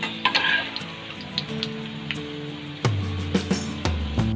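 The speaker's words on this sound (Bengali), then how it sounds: "এইভাবেই একে একে সব কোপ্তাগুলো আমরা ভেজে নেব।" Katla fish koftas fry in hot oil, giving a steady soft sizzle broken by sharp clinks and scrapes of a utensil against the pan.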